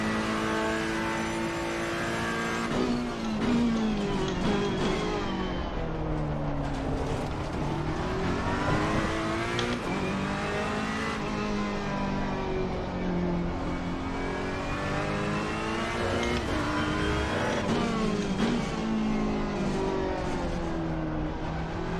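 Race car engine in Assetto Corsa Competizione on the Nurburgring, revving continuously with rising and falling pitch through gear changes and corners, loud and close, with no talking.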